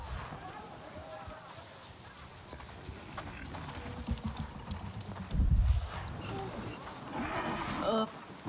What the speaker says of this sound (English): Your dire horse looks so powerful.